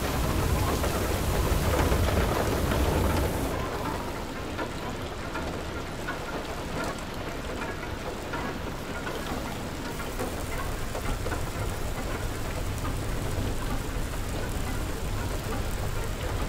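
A hailstorm with rain and thunder in the video game Far: Lone Sails roars as a loud, continuous wash of noise with a low rumbling undertone. It eases slightly after the first few seconds and holds steady with no talking.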